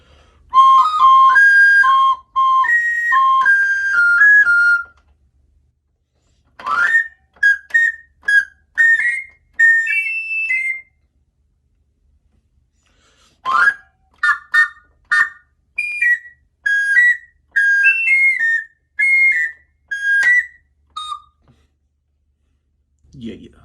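High notes on a Suzuki Andes 25 melodica ring out as clear, whistle-like tones, first a loud sustained phrase, then quick separate notes in two bursts split by silent pauses.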